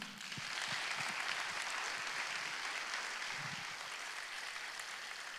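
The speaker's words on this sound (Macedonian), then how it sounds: "И сега е време аплаузот нека трае" Audience applause at a charity concert in a hall, a steady wash of clapping filling the whole stretch at moderate level, with a few low voice murmurs underneath.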